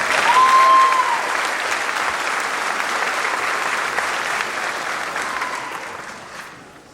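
Sustained audience applause fills a college commencement hall, a loud, even wash of clapping from a large crowd that holds steady for several seconds before gradually fading.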